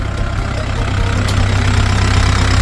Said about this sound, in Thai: เช็คเครื่องยนต์ก่อนนะครับ